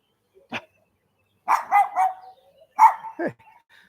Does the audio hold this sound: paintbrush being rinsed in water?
no